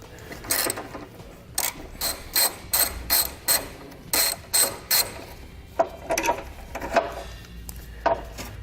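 A ratchet wrench with a 10mm socket loosening the horn bolts on the driver's side of a 2017 vehicle, a close, loud series of rapid clicking bursts with short pauses between strokes.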